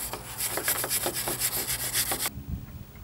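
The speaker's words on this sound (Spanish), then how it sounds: "Limpiar la superficie de apoyo del buje." Rubbing and scraping on a car's wheel hub contact surface during brake work, a steady series of close, rhythmic strokes for a little over two seconds before it stops abruptly.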